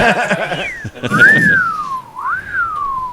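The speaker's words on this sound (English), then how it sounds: "The song that brought whistling back." Sliding, melodic whistling glides up and down in pitch after a brief bit of voice, loud and close.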